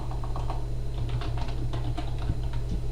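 Fast, close typing on a computer keyboard: a dense run of crisp key clicks and clacks over a low steady hum, with no talking.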